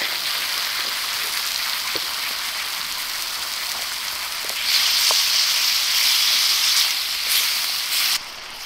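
Sherry and balsamic vinegar sizzling and reducing in a pan on a Soto camp stove at a wild island campsite: a loud, steady frying hiss that swells halfway through, then drops off near the end.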